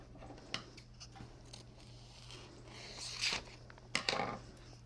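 Scissors cut through sign vinyl transfer tape in a few short snips and crisp rustles, close and fairly quiet over a steady low hum.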